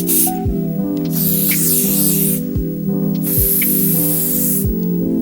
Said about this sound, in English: Then I will use fixative spray